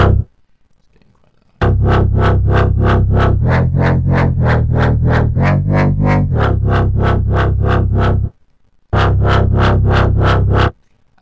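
Dubstep synth bass with soft distortion and a dark tone, loud and close, pulsing in fast repeated rhythmic stabs that sweep in tone, broken by two short silences.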